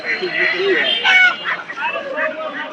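Native chickens clucking and squawking at a busy, noisy rainy-day poultry market, with people talking throughout.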